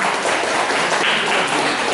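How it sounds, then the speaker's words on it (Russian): Audience applause at a chessboxing competition in Kazan, a brief, continuous burst of many hands clapping in a hall, even and moderately loud from start to finish. "Похлопаем."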